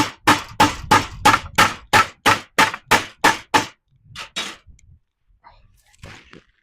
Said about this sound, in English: So I think I gotta go get a hammer.